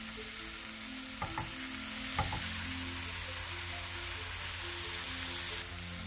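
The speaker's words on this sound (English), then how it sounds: "Now we'll add methi. Mix it properly and fry till methi gets cooked." Methi leaves sizzle in a hot pan while being fried for a mushroom malai curry, a steady, quiet frying hiss with a couple of brief stirring scrapes of a spoon.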